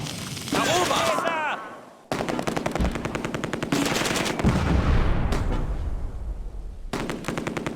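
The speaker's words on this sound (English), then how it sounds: "they're getting shot at by the farmhouse" Rapid machine-gun bursts and rifle shots crackle through a World War II battle in the strategy game Close Combat: A Bridge Too Far, with dense overlapping fire, a short lull, then more sustained volleys.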